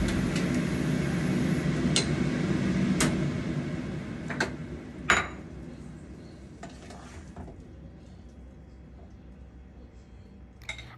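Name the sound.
mixing iced tea, utensils clinking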